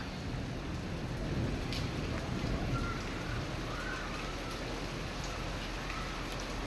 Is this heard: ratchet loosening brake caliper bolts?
no